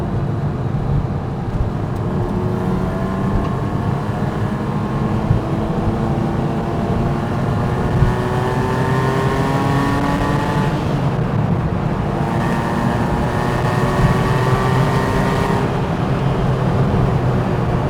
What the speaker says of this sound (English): this is us doing a pretty high speed in fourth gear. Just dropped it back to third.